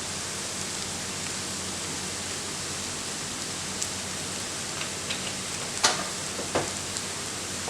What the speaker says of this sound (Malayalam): ഒന്ന് ഇളക്കി മിക്സ് ചെയ്യാം